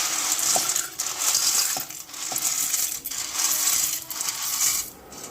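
Dry pasta rattles and clatters into a pot of hissing, bubbling water with a little peanut oil, with a continuous bright sizzle and a few sharp ticks.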